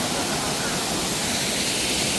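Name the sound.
hidden waterfall flowing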